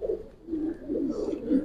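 A giribaz pigeon cooing at a loft, a few soft low throaty coos in quick succession, close and fairly quiet, no talking.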